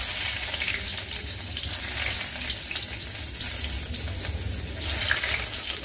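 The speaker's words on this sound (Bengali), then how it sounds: "এই তেলের মধ্যে এবার আমি সবজিগুলো দিয়ে দেব, প্রথমে আমি একদম ফার্স্ট দেব আমি রসুন কুচিটা" Chopped garlic sizzles in hot oil in a home kitchen pan, a steady close-up hiss and crackle that stays level throughout, with no talking.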